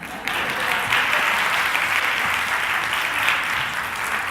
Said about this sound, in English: a round of applause for these people